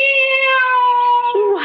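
A cat in a radio drama lets out a long, loud, close meow that slides gradually downward, ending with a brief upturn, heard alone without any speech.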